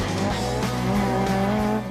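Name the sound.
Mark I Ford Escort rally car, 2-litre engine, skidding sideways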